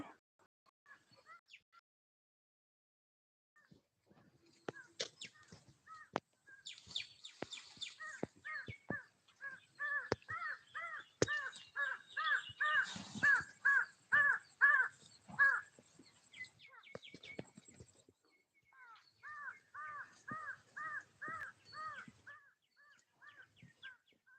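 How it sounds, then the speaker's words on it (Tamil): Crows caw repeatedly in bursts of harsh calls, with a pause and then another volley, fairly close and loud against a quiet background. "காக்கா கத்துது"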